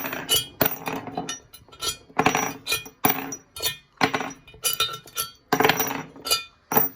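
Metal bolts of 12 mm size are pulled from a 1999 Kawasaki STX 1100 jet ski engine during teardown, a close series of sharp clinks and rattles as they drop and knock against metal parts, no talk.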